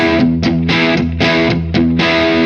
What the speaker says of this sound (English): Now let's push in the low end boost.